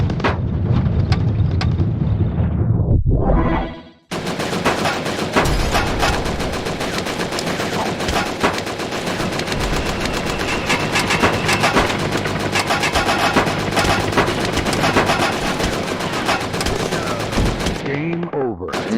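Rapid machine-gun bursts and gunshots rattle continuously and loudly during driving in the VR video game Operation Warcade, preceded by a brief stretch of other game noise and a short drop to near silence.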